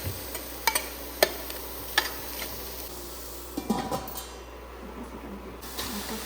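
Garlic dry-frying with no oil in a Saladmaster 9-quart braised pan, giving a soft, steady sizzle broken by several sharp utensil clicks and stirring scrapes against the pan.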